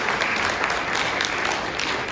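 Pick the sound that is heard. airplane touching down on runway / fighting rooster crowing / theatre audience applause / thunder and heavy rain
theatre audience applause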